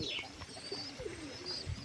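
A pigeon pair gives soft, low coos at a moderate distance, with faint chirps from other birds mixed in over a light background hiss.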